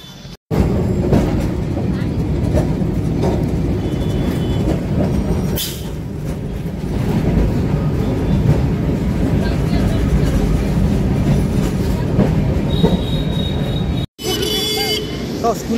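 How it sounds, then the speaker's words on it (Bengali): A Kolkata tram arrives and runs along its rails, a loud, close, continuous rumble of wheels and carriage that holds steady throughout, broken only by a couple of brief dropouts. "ট্রাম আসছে"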